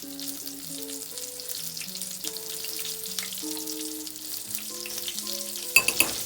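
Chicken of the Woods mushrooms, dipped in egg and flour, fry steadily in a pan with a continuous crackling sizzle, some sustained tones running underneath and a few louder clatters near the end.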